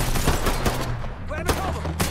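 Gunfire during a Mafia III shootout, a rapid burst of loud, close shots followed by a couple of sharper cracks over a low rumbling background.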